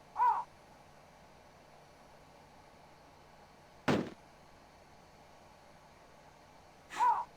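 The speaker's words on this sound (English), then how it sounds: "I kind of like these, this Japanese trope of birds that, like, call you idiot. The aho birds." Aho birds call in a DOS video game, which uses the Japanese trope of birds that jeer at the player. Two short crow-like caws come at the start and end of the clip, with a sharper burst in between, over quiet background hum.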